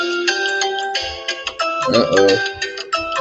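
A phone rings with an incoming call, a melodic ringtone repeating throughout while someone talks over it.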